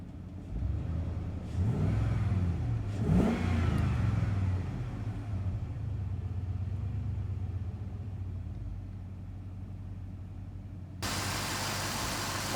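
An old Jeep engine runs with a steady low rumble and settles down to a lower idle, with a brief surge of revving early on, close and fairly loud throughout.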